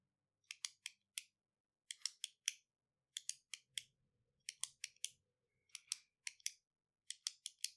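A pen clicks in quick bursts of three or four sharp ticks, repeated at steady intervals, imitating a faint clicking sound heard in a forest; close and crisp with near silence between groups.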